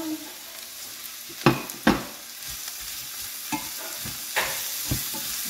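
Onions and leeks frying in a pan, a soft steady sizzle broken by several sharp scraping knocks as the mixture is stirred, close and clear with no talking.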